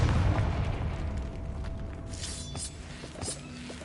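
Confringo blasting spell going off in a Harry Potter video game: a heavy low boom at the start that rolls into a long rumbling, crackling tail, with a few softer bursts and pops trailing after.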